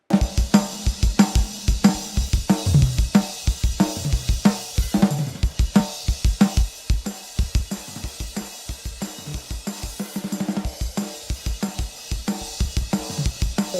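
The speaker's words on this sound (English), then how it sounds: "So what you're hearing is the drum" A heavily compressed drum track plays within a mix, with punchy, even-level hits in a steady driving rhythm and dense, squashed dynamics throughout, loud and without talk.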